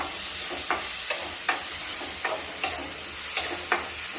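Tomatoes sautéing in a pan for a garlic tomato chutney, a constant sizzle broken by about eight regular scraping strokes of a spatula stirring, close and fairly loud, no voices.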